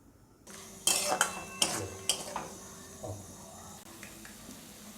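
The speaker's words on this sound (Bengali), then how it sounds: "এবার আমি সেদ্ধ আলুগুলো দিয়ে দেবো এর মধ্যে, দিয়ে একটু নেড়ে চেড়ে নেব" Boiled potatoes are stirred into cooked masala in a pan for Bengali-style ghugni, with several clanks and scrapes of a metal spoon against the pan over a quiet background.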